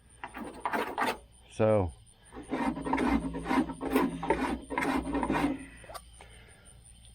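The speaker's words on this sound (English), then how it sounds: "use a cheese grater on the big stuff and just break it down like that" A cheese grater file rasps rhythmically across body filler on the bodywork of a 1969 Chevy van, steady close scraping strokes with a brief spoken word near the start.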